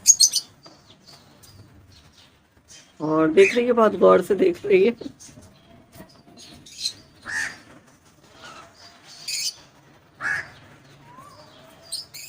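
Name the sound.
Asian koel calling from a tree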